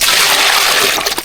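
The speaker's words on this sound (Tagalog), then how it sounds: "Lagyan na natin ng tubig." Water is poured in, making a loud, close gush of splashing liquid that keeps going steadily before breaking into short spatters at the end.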